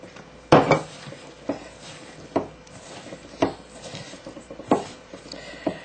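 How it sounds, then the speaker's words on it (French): A spoon or utensil knocks and scrapes around a bowl as chapati dough is mixed with water, giving a string of irregular, fairly close clacks and scuffs with no talking. "On va bien mélanger."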